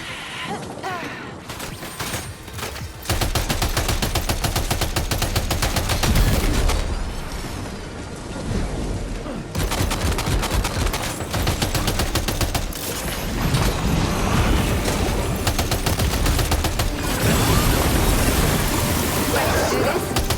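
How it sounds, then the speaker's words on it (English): Dense, sustained gunfire and mechanical clatter from a firefight in the video game Death Stranding 2 run loud and nearly continuous, mixed with voices and game sound. "Open fire."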